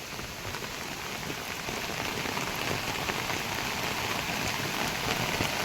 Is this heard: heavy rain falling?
yes